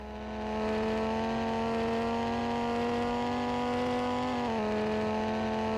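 A Volvo S60R inline five-cylinder engine in a Roblox driving game holds a steady, buzzing drone at high revs, then dips briefly as if shifting gear before resuming its sustained whine.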